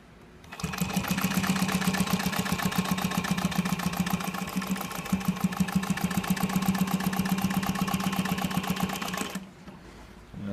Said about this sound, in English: And it's ready to sew again.